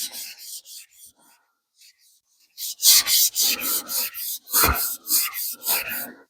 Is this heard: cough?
no